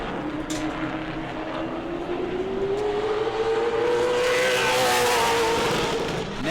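A Super Late Model race car roars through a qualifying lap at New Smyrna, its engine note rising steadily as it passes close by, loud and continuous with no talk.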